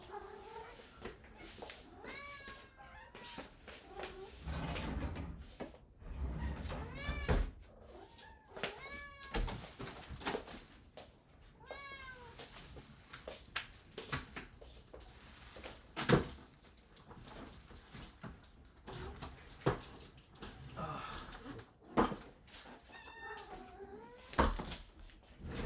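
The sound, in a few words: cat meowing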